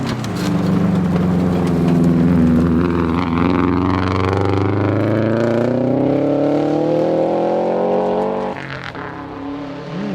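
A 2002 Subaru WRX open-class rally car with a 5-speed gearbox sweeps past on a forest rally stage, its engine loud and close, rising in pitch through the gears before a sudden lift near the end.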